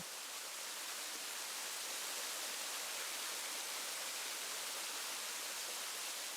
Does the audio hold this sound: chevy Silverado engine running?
no